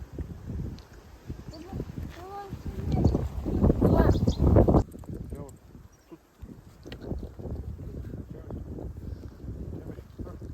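Gusty wind buffets the microphone outdoors, rising to a loud rumbling roar midway before easing, with voices talking over it.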